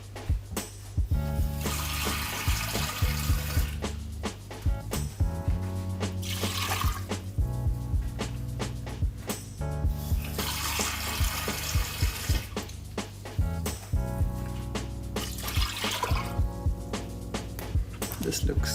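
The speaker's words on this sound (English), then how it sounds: "And then I'm gonna add some water." Tap water pours steadily into a pan of rinsed, soaked black beans, a continuous splashing fill with clinks of the pan, close and loud throughout.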